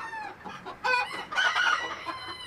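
Chickens in a flock squawking and clucking in a coop at night, with a couple of louder agitated cries over steady background clucking, close by.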